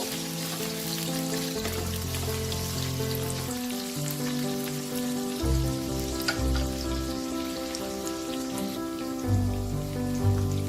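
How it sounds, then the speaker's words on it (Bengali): Onions frying in a pan until medium brown for a chicken do pyaza, a steady close crackling sizzle lasting throughout, with a sustained low tonal hum running underneath. "পেঁয়াজটা আমার ভাজা হয়ে গেছে, দেখুন এটা পুরো ট্রান্সপারেন্ট হয়ে গেছে।"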